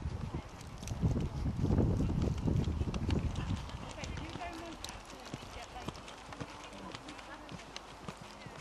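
A horse's hooves thud and clip-clop across a show jumping arena at a steady pace during a 1.10m amateur class, loudest early on before fading, while a commentator talks over it.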